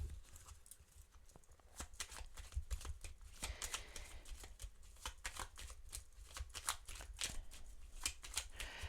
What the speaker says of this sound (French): on va prendre une petite carte de l'oracle des anges